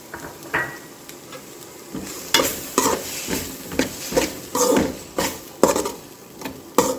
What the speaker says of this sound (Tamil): பச்சை வாசனை போகிற வரைக்கும் நல்லா வதக்கிக்கோங்க.